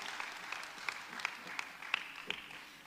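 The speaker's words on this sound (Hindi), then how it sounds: "कृपया जोरदार तालियों से प्रतिष्ठा का स्वागत करें" An audience at a children's poetry gathering in Ayodhya applauds to welcome a young girl poet, a faint, steady patter of distant clapping with a few sharper individual claps.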